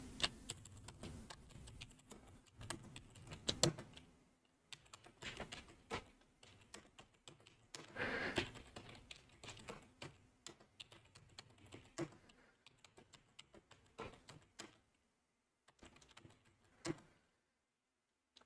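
Computer keyboard keystrokes at a desk, quiet and close, come in quick irregular bursts of clicks with brief pauses, ending in a few scattered taps.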